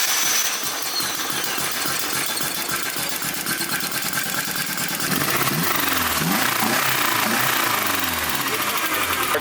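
A 30-year-old Nissan engine running after repairs, a close, loud, steady idle with a rough, uneven chatter, then rising revs near the end as the throttle is blipped.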